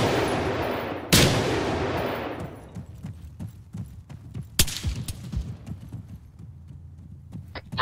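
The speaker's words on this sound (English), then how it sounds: "Is that you guys shooting right now, or is that them?" Video game gunfire, sharp bursts of shots cracking out near the start and again midway, with scattered clattering and thumps in between and no voices.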